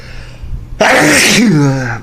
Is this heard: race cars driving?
no